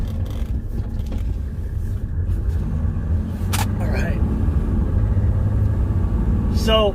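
A Mercedes-Benz W210 with an OM606 diesel engine rumbles low and steady while driving, with someone talking over it and a couple of brief clicks and squeaks.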